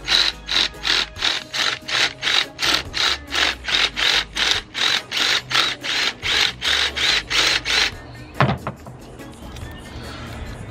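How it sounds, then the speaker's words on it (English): Power drill widening a hole to just over 1 inch, roughly twenty short whirring bursts in quick regular rhythm, close and loud, then a rattle and a fading whir as the bursts stop. "So you're going to put that drill back in there, kind of move it around a little bit"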